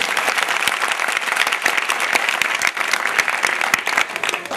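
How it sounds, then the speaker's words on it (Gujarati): An audience at a community stage event with child performers claps loudly and steadily, a dense continuous applause filling the hall with no voices over it. "એક વખત એમને પણ જોરદાર તાળીઓ બોલાવો."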